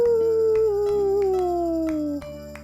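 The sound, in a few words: person imitating a wolf howl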